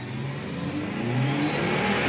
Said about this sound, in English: Oh, he's even revving it.